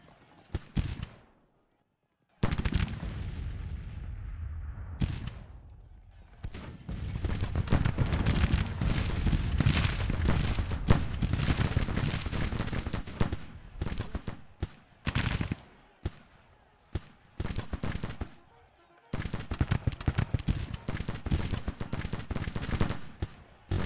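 Rifle gunfire crackles through a Civil War battle in Grand Tactician, near Memphis in December 1861: dense, continuous volleys and scattered shots fill most of the stretch, with a few short pauses between bursts.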